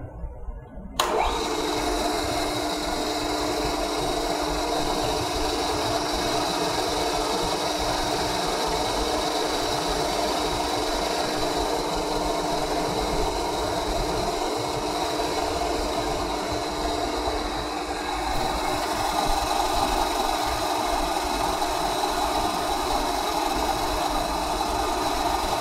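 A manual milling machine runs steadily through a cut, a continuous even mechanical whir and hum starting abruptly after a brief quiet moment and holding for the whole stretch without talk.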